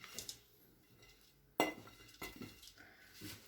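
A spoon scrapes and clinks against a pan while a dry milk halwa mixture with dried fruit is stirred. A sharp metallic knock is followed by softer, uneven scraping, all quiet and close.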